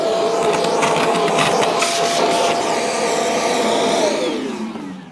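An Airthereal automatic dustpan vacuum running with its hose on high, a loud steady whirring roar with a rough airy rush that holds for several seconds, then winds down slightly at the end.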